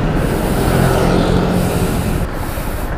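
Heavy road traffic rumbles and hisses steadily all around, a dense, loud wash of engine and tyre noise with no single vehicle standing out.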